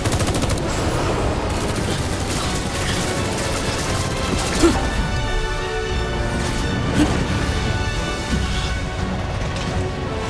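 Continuous loud gunfire in Final Fantasy VII Remake, dense automatic rattling with occasional sharper shots, while voices speak over the din.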